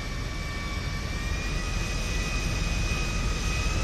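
A jet aircraft engine in GTA 5 roars steadily and loudly, a dense continuous rush with a faint high whine on top, unbroken throughout.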